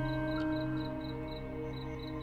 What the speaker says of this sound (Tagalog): dinig ko ang huni ng mga kuliglig mula sa labas.